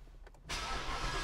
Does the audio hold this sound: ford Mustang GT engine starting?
yes